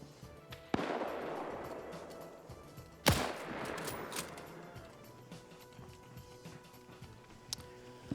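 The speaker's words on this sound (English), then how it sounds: "we've got some additional shooting over here" Scattered gunfire in a World War II multiplayer shooter game, with a few sharp distant reports standing out from a continuous battlefield rumble.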